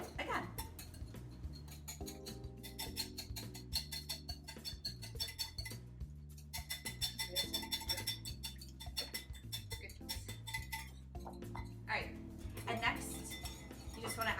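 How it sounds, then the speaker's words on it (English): A whisk clinks rapidly against a bowl as salad dressing with added lemon juice is beaten together, a busy metallic tapping rhythm with bright ringing tones and short pauses, fairly close and without talk. "And then you just want to whisk it again."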